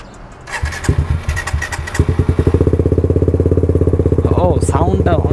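A modified Suzuki GSX-R sport motorcycle starts up with a few sputtering cranks, then settles into a loud, close, rapid idle with a throaty pulsing rhythm, a brief higher whine near the end.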